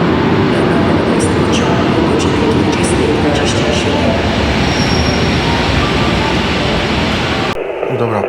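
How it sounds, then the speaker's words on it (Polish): A delayed passenger train pulls into a station at Wrocław, rumbling loudly and continuously with rattling wheels and faint high squeals before the roar suddenly drops away. "pociąg wjechał z opóźnieniem"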